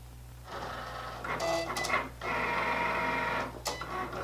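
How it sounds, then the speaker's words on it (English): A Cricut cutting machine works through material loaded on a mat, giving a close, steady mechanical whirr with shifting carriage movements and short changes in pitch. No one speaks. "I'm going to load my mat, press my Cricut button"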